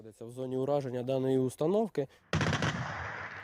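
A voice speaks briefly, then a Gepard anti-aircraft cannon fires a loud, rough burst that carries on to the end.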